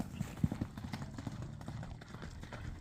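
A horse ridden at speed, its hooves beating out a quick, uneven clip-clop pattern over a few seconds, fairly faint and heard at some distance outdoors.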